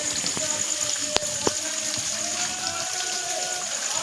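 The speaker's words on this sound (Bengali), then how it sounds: "এখান দিয়ে যে জলটা বেরোচ্ছে" Water pours steadily out of an outlet at night in Pratappur, a constant broad rushing hiss with a few sharp clicks and faint tones over it.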